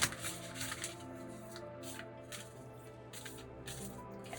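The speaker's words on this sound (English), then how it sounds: "So we're just going to shuffle this deck and see what else we can learn." A deck of tarot-style cards is shuffled quietly at close range, giving soft repeated riffling bursts in an uneven rhythm against a faint steady hum, with no talking.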